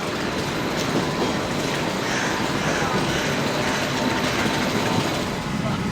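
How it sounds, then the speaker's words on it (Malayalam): Norway's Airport Express train rumbles steadily with clickety-clack rail noise and mechanical rattling throughout, a continuous dense roar heard close. "വലതുവശത്തുള്ളതാണ് എയർപോർട്ട് എക്സ്പ്രസ് ട്രെയിൻ"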